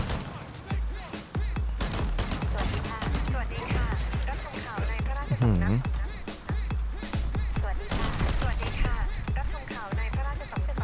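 A new shotgun fires again and again in the shooter game Mx Guardian, with rapid, punchy blasts packed close together across the whole stretch. A voice talks excitedly over the gunfire.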